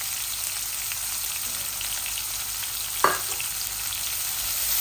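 Spinach with mushrooms frying in a pan, a steady soft sizzle with a brief scrape or stir near the middle, close by and without voices.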